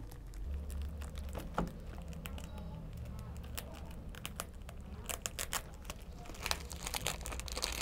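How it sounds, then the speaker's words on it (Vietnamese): Plastic film wrapping, sealed with stickers at both ends, is peeled off a box of Korean cordyceps and lingzhi extract, giving close, continuous crinkling and crackling with sharp tearing bursts. A voice talks quietly underneath. "ở mặt ngoài của hộp sẽ được bọc bằng một chiếc túi ni lông và chúng ta sẽ cùng bóc cái um, túi ni lông này ra"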